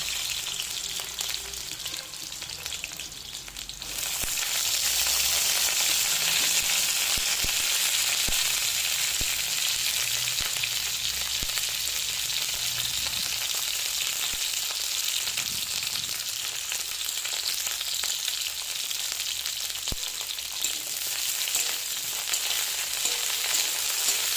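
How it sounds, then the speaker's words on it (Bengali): Carrots, potatoes and cauliflower fry in a pan for a winter-vegetable dalia, a steady broadband sizzle that swells louder after a quieter opening and holds on continuously, close and alone with no talking. "এরপর গাজর, আলু, ফুলকপি সব কিছুকে দিয়ে ভেজে নেব"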